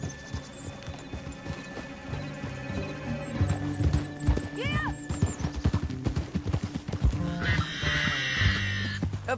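A horse in Red Dead Redemption 2 lets out a loud, close whinny midway, among clip-clopping hooves and game ambience.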